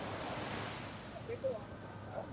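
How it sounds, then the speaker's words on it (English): Ocean surf at the shore in Long Beach, California, washes faintly onto sand as a soft, continuous hiss with light wind noise and a few brief distant tones. "you can hear a bit of the ocean like padding on the sand"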